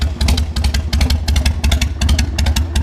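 A cheap used motorcycle engine idles steadily after starting, a close, loud, rapid uneven putter with rhythmic clattering pulses and no talking.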